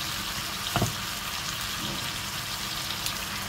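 Quiet, steady sizzling of chicken frying in a pan for tinola, with a faint stir or clink partway through.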